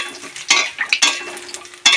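A spoon stirs whole spices (dried red chillies, bay leaves, cinnamon, cardamom and cumin seeds) frying in hot oil in a pan, with sharp scraping strokes and clinks over a close, bright sizzle.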